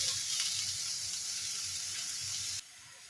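Potato bhaji with onions frying in a pan, a steady close hiss and sizzle that runs continuously and then drops abruptly softer near the end, with no talking.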